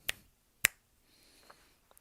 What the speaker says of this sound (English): If I could snap my fingers. Like this.